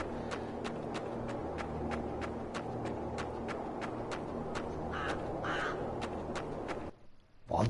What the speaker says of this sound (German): ich habe seit, glaube ich, einem Tag höre ich diese Krähen hier